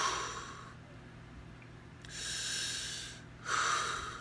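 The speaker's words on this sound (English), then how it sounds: "So that's breathing into your diaphragm." Slow diaphragmatic breathing during a fitness exercise, with deep audible inhales and exhales in a steady cycle, close and fairly faint, with no talk.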